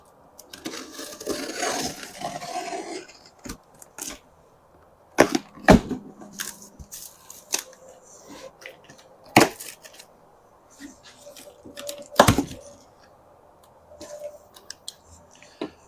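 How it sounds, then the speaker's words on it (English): A cardboard shipping box holding an Alpicool K18 portable refrigerator being cut open: an early stretch of scraping and slicing, then scattered sharp clicks and snaps, close by and fairly quiet, with no talk. "let's go ahead and cut this open."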